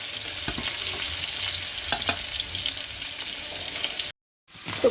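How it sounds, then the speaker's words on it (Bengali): Hilsa fish fry in a pan with a steady, soft sizzle and a few utensil clinks, then a brief silence. "ইলিশ মাছগুলি একটু আগে ফ্রাই করে নিচ্ছি,"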